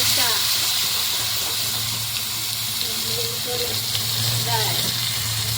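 Tempering of asafoetida, cumin, curry leaves, tomatoes and chillies in hot oil for dal dhokli, a loud, steady steamy hiss and sizzle close by while someone speaks over it.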